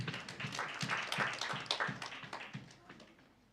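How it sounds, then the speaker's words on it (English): Audience clapping at an apprenticeship graduation and launch event as people come in to take their seats, a fairly quiet, rhythmic patter of hands in steady beats that gradually fades toward the end. "Let us clap for them as they come."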